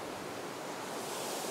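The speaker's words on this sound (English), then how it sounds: "capture more of this water coming downstream through these rocks towards the camera." A stream runs downstream over rocks in a steady, dense rush of water that sounds close and fairly loud, with no voices.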